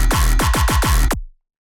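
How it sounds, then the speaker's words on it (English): Metallic synth bass stabs from an electronic track: five or six punchy hits with falling pitch sweeps in quick, even succession, loud and alone, then abrupt silence. "it sounds like one of those really metallic shots, bass shots"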